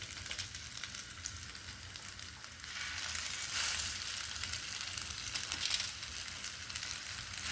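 Sate lilit skewers of minced spiced meat sizzle and fry in a pan, a steady soft crackle with no talk.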